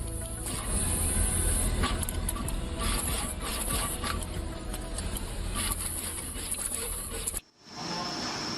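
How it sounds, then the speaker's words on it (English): Pick and place machines assembling through-hole parts on printed circuit boards, a steady mechanical whirring and clicking hum that runs continuously, then cuts off abruptly near the end. "the TST parts are placed and soldering through the holes using pick and place machines"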